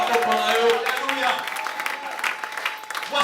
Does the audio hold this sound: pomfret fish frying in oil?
no